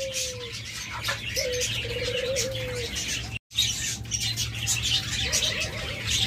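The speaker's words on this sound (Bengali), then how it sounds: "আমাদের কাছে সকল মিউটেশনে সকল কালারের অস্ট্রেলিয়ান ঘুঘু পাখি রয়েছে" Australian diamond doves coo softly and repeatedly in an aviary, with some chirps and a brief flutter of wings, all fairly close and continuous.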